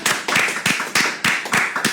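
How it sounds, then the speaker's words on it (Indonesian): A studio audience claps for a guest at the close of a skincare talk show, a close, rhythmic run of about eight sharp claps heard clearly with no talk over them. "Tepuk tangan dong buat Mbak Dia."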